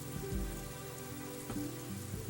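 Rain falls steadily in the Yakuza 2 video game, a soft continuous patter beneath a low, droning musical score, moderately quiet and unbroken.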